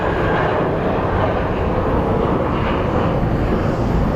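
A United Airlines jet in the old Continental livery takes off from Sky Harbor International Airport, Phoenix, bound for Newark: a steady, broad engine roar that holds loud and even throughout with no voices.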